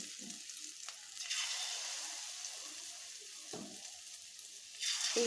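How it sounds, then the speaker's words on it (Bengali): Egg and potato batter sizzles in hot oil in a wok as pieces are dropped in one at a time, a steady frying hiss that surges at each addition. "কড়াতে আমি একটু তেল দিয়ে নিয়েছি, তেল গরম হয়ে গেছে। এবার এখানে আমি একটা একটা করে ছাড়ছি।"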